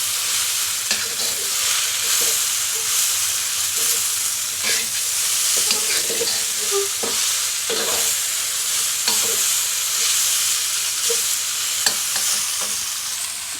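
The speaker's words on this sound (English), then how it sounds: "Quickly throw in all the other ingredients. The sprouts, mushrooms. Give this a mix first." Ingredients, including bean sprouts and mushrooms, are stir-fried over high heat for char siu lo mein. A steady, loud sizzle runs throughout, broken by repeated clanks and scrapes of tossing and mixing in the pan.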